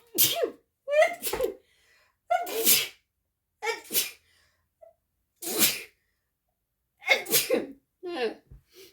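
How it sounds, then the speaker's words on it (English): Someone sneezes several times in a row, sharp close bursts spaced a second or so apart with quiet gaps between them. "I am a multiple sneezer, so if I ever sneeze, just give me a few minutes"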